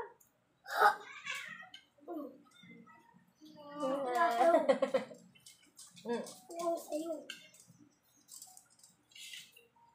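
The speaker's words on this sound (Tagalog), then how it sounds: "Palabasin mo yung pusa." A cat meows several times up close in a home, drawn-out wavering cries spread over several seconds with short pauses, and people talk briefly nearby.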